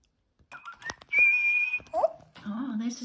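A toy bird whistles in a few short bright tones and one longer sustained note, with breaks between, mixed with other small chirpy sounds in a quiet indoor setting.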